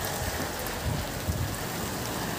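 Rain falls in a steady, dense wash of noise, close by and continuous, with a few heavier splatters in the lower range.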